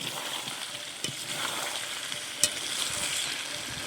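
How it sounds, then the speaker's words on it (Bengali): Meat curry fries in a pan while being stirred, with a low steady sizzle under occasional scraping strokes and one sharp utensil knock near the middle. "একটু নেড়ে চেড়ে আর জল দিয়ে দেবো"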